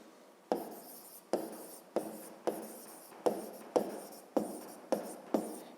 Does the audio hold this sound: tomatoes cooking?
no